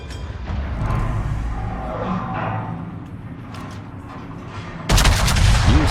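Heavy naval guns of 406 mm calibre fire aboard the Soviet battleship Sinop in a naval combat video game, heard first as a rumbling muffled roll and then as a sudden loud booming salvo near the end.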